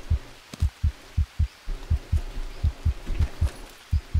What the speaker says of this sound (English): Now I can hear my heartbeat.